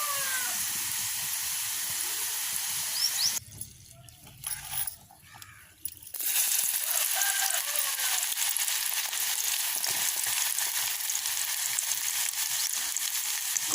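Banana pieces frying in hot oil in a small batch, a steady close sizzle and hiss that briefly drops quieter midway before returning at full strength.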